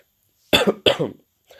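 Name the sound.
coughing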